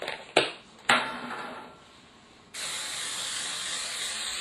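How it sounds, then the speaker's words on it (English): Cooking spray sprayed into a baking pan in a home kitchen, a couple of sharp clicks and clanks, then a loud steady hiss of the spray nearby. "And then you put some cooking spray into the pan."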